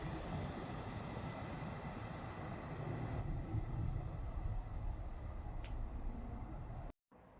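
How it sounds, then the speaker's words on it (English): Scotrail train from Dundee, three carriages, rolling into Edinburgh Gateway station with a steady, broad rumble that holds at a constant level for about seven seconds, then cuts off abruptly. "Arriving in now is the 1159 Scotrail service from Dundee to Edinburgh Waverley"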